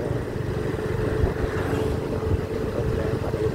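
A blue Honda XRM125 FI DSX Extreme motorcycle being ridden: a constant engine drone mixed with road and wind rush, steady and moderately loud, with no talk.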